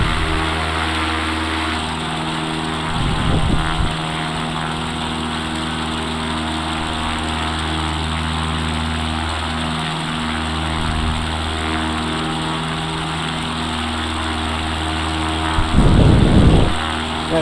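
CubCrafters X Cub light aircraft in flight over the Carmel Valley, its propeller engine droning steadily and loudly from inside the cabin, with a couple of brief bumps of wind or cockpit noise.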